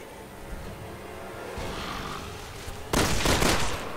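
Gunfire in Resident Evil 6, a loud cluster of rapid shots near the end that follows a rumbling action soundtrack.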